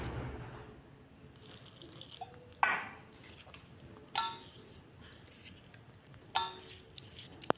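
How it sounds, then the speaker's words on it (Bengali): A spoon stirring thick jilapi batter of flour and water in a bowl, with a few sharp clinks against the side over a quiet, wet scraping. "দেখো আমরা চামচ দিয়ে কিন্তু খুব সুন্দর করে ব্যাটারটিকে তৈরি করে নিচ্ছি।"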